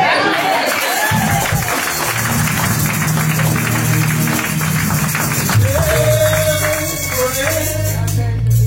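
A church congregation cheers and claps in praise of the Lord, a dense steady swell of crowd noise with scattered voices and music underneath, holding strong throughout.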